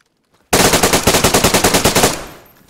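Loud, rapid automatic gunfire from a video game, a steady burst of about sixteen close shots lasting roughly a second and a half after a brief silence, then fading out.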